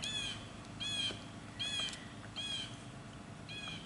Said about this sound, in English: We hear the chirping of the birds and the woodpeckers